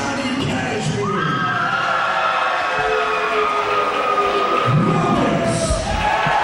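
A wrestling crowd at a CZW Best of the Best event applauds through ring introductions. It is a dense, continuous wash of clapping and cheering throughout, with occasional shouts rising above it.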